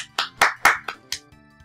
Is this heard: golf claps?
yes